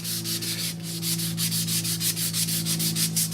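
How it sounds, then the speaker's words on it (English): Sandpaper wrapped around a mailbox post decoration rubbed back and forth by hand, a steady rhythmic scratching of about fifteen close strokes over a constant low background hum. "I just wrap a little piece of sandpaper around it, and just keep going back and forth"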